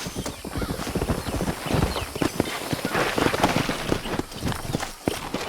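Horse hooves clattering in a quick, steady galloping rhythm in the video game Red Dead Redemption, fairly close, with a brief whinny-like sound amid the hoofbeats.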